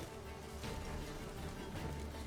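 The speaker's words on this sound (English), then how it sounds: "I hear bees!" Bees buzz in The Witcher 3: Wild Hunt, a faint, wavering insect drone that swells slightly and fades over a couple of seconds.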